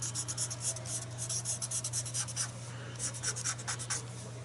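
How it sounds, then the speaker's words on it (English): Graphite scratches and scrapes across paper as a face is drawn, in quick, uneven strokes close up and fairly quiet over a steady low hum. "I'm actually going to draw her face with it."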